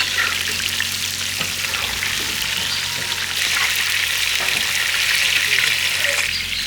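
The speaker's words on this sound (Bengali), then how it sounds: "এই দেখো মাছ ভাজা কারে কয়" Large katla fish sizzling and bubbling in hot oil in a wok, a loud continuous frying hiss with occasional stirring clatters throughout.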